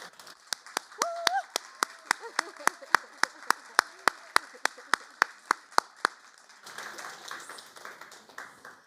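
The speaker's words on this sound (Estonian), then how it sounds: "anname ühe väga korraliku aplausi kõikidele panelistidele" An audience at a panel discussion at Fotografiska in Tallinn's Telliskivi Creative City applauds the panelists with sharp, evenly timed rhythmic claps, a voice briefly heard among them, before the clapping loosens into a fuller, scattered round of applause.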